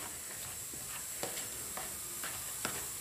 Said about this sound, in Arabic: نخلطو بالفرشيطه حتى نمرسو مليح هذاك الشوفلر والجبن والبيض تاعنا